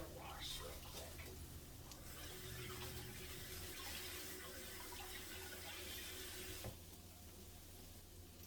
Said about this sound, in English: just going to give this a little wash real quick